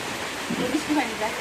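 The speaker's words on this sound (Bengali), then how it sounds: "নাহলে বৃষ্টির পানি আসে" Steady rainfall with rainwater spattering around a fenced rural home, an even hiss with a faint voice murmuring briefly over it.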